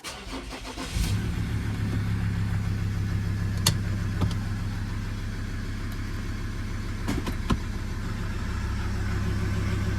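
A Ford Ranger engine, just after a transmission valve body replacement, cranks and catches about a second in, then settles into a steady, close idle with a few faint clicks over it.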